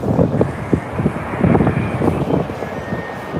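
A British Airways Boeing 787-9 at London Heathrow gives a steady jet roar mixed with gusty wind buffeting on the microphone, moderately loud and continuous, with no speech.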